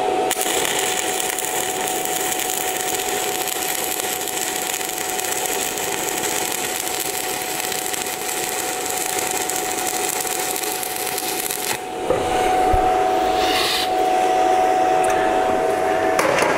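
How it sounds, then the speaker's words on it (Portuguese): An inverter arc welder set to 90 amps lays a bead, giving a steady, close, crackling hiss for about twelve seconds before the tone shifts and softens near the end; no one speaks. "Vou colocar em 90 amperes e vamos fazer uma solda para ver como ela vai ficar."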